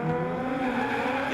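A Toyota GT86 drift car idles and revs at a D1NZ drift event in Wellington before launch, a steady, loud engine drone building alone with no talk.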